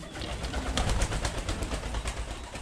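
Pigeons at an auction make a dense, continuous fluttering and cooing noise, loud and close, with a rushing wing-flapping texture filling the whole stretch.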